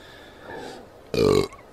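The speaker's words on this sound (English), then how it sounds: "used to be polite about burping" A man lets out a single loud, throaty burp lasting about a third of a second, preceded by a quieter murmur and near-silence.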